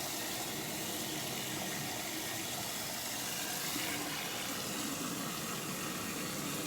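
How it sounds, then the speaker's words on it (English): Water pouring steadily into a lemonade pitcher that holds strawberries, a constant close rush with no talk. "I'm going to add a little extra water in here because I do have the strawberries"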